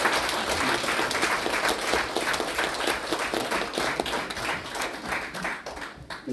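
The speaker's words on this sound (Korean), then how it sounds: "우리 박수 한번 쳐주세요." An audience in a university lecture hall claps at a special guest lecture, dense, lively applause that runs on steadily and then thins toward the end.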